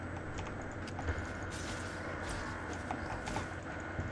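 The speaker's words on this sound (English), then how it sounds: "I don't even think my keyboard's that loud." Computer keyboard keys clicking during play of the SWTOR video game, a faint scatter of quick irregular taps over a steady noisy background hum, no talk.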